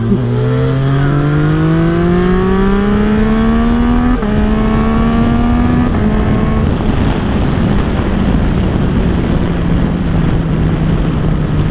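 A 2022 Yamaha MT-09 with a tuned ECU revs up through its gears while riding, the engine note climbing in pitch, dropping at the shift, then climbing again, loud and close under heavy wind rush.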